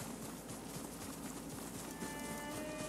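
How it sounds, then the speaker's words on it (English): Horses gallop in the Ghost of Tsushima video game, a rapid clip-clop of hooves that is steady and fairly close, running continuously without speech. "Horses, they're coming for us."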